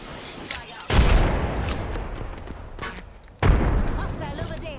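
Grenade explosions and gunfire in the battle royale shooter Apex Legends, with two heavy booming blasts that hit suddenly and ring out into rumbling decay, mixed with scattered shots and a speaking voice.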